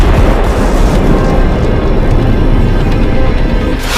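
A large blast destroys a building in an attack on Iran's former supreme leader Khamenei, giving a loud, continuous roaring rumble that fills the low end throughout, with no voices.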